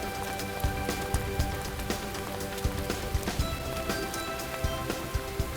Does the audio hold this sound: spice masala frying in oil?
no